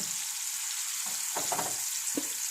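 Food frying in a pan until crisp gives a steady, close sizzle, with a few short stirring scrapes breaking through the hiss.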